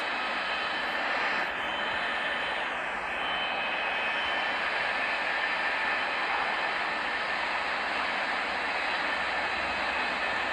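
Airliner engines running steadily in a cabin during an engine-fault emergency landing at Heathrow, a continuous loud roar and hum throughout with no talk.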